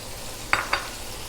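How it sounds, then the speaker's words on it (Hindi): Finely cut boneless chicken frying with garlic in a pan: a steady sizzling hiss broken by two quick utensil scrapes close by. "एक प्याली मैंने चिकन बोनलेस इस तरह काट के रखा हुआ है बारीक, ये डाल दें आप"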